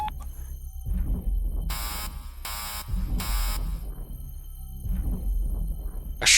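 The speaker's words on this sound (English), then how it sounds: "A shrill alarm blared from Frisia's comms terminal" Shrill alarm from a comms terminal in the video game Snowbreak, three long bright blaring pulses in the middle, over a low rumbling hum and deep booming thuds.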